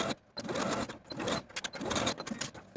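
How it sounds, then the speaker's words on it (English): A sewing machine stitches a tie piece for a 1970s vintage jersey wrap dress, running steadily and close by with a fluttering mechanical whir that surges and eases over a few seconds. "take it to your machine and sew that tie in place along that straight short edge"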